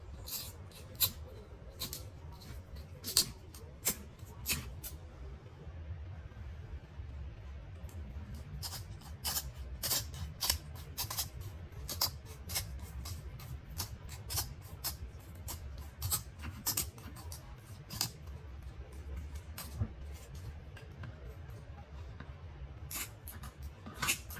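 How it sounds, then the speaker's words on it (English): Knife trimming the skin off a giant fish for egusi soup, heard as soft, irregular scraping and cutting clicks over a low steady background hum, close and fairly quiet, with no speech. "So right now I'm just going to trim off all the skin."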